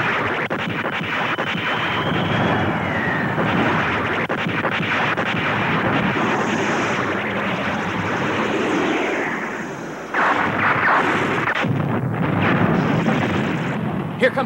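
Cartoon space battleship guns open fire in a sustained, dense barrage of blasts and rumbling booms, loud and continuous throughout with a brief dip near the end, mixed with voices.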